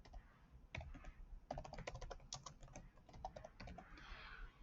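Fingers type a comment on a computer keyboard in quick irregular bursts of crisp clicks, close and quiet, with brief pauses between runs and a soft rustle at the end.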